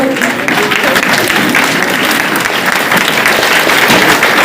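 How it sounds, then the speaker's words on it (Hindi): Enthusiastic standing ovation from a large audience at a big DXN business meeting in Basti, India: dense, continuous clapping at steady full volume for the whole stretch, with no clear gaps. "आप लोग खड़े होकर के सर के लिए जबरदस्त तालियां होनी चाहिए।"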